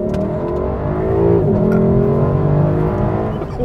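A Mazda car accelerates hard from a green light, its engine roaring loud and close with rising revs for a few seconds as it pulls away.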